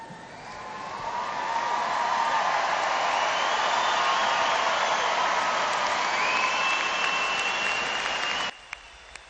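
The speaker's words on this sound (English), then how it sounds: "Let's have a round of applause for the graduates one more time." A large crowd applauds graduates at a university liberal arts and sciences commencement, the clapping swelling into a long, steady, loud roar before cutting off abruptly near the end.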